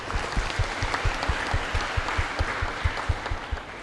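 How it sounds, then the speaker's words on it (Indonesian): Steady applause from an audience, dense clapping with a broad hiss of many hands, continuing evenly throughout. "Ya, tepuk tangan dulu"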